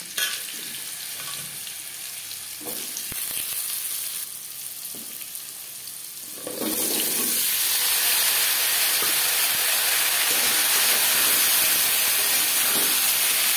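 Cubed, peeled potatoes dropped into hot oil with whole cumin and bay leaf: a lighter sizzle gives way midway to a sudden loud, broad hiss that stays strong and close, with a few stirring knocks.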